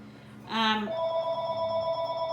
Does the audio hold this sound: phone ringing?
yes